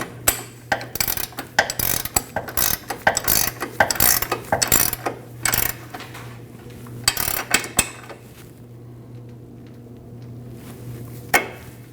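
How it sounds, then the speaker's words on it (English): Ratchet tightening a 21 mm nut on the rear side of a front lower control arm on a 2003–2008 Subaru Forester, heard as bursts of quick metallic clicking strokes that pause and stop, with a faint steady hum underneath. "Now onto the back side, you're going to have to tighten this nut."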